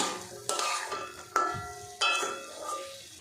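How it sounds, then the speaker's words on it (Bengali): A spoon stirs jackfruit and chana dal masala in a pan, giving three sharp scraping strokes with metallic clinks over a faint sizzle, close and clear. "আর একটু নাড়াচাড়া করে নেব"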